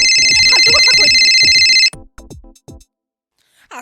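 A mobile phone ringtone rings loudly with a bright, repeating electronic melody for about two seconds, then cuts off, leaving brief faint voices in the background.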